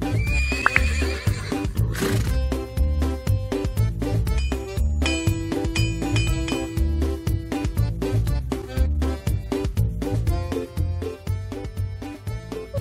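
In a kids' farm video game, a horse whinnies loudly over clip-clopping hooves, with steady tonal music and chiming sounds running underneath throughout.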